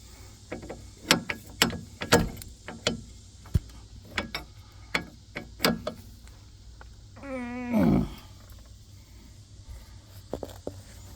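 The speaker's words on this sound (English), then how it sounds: "we need to loosen our jam nut" A wrench works loose the tie rod jam nut on a 1999 Durango 4x4, giving a series of sharp metallic clicks and knocks at irregular intervals, close by, with one brief grinding squeal midway and no speech.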